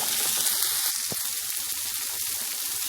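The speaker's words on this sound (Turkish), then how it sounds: "Salçalarımı ilave ettim. Bunu da güzelce kavuracağım." Tomato paste sizzles steadily in a pan over browned minced meat for a stuffed pepper filling, a close, continuous crackling hiss with a few soft stirring scrapes, no talking.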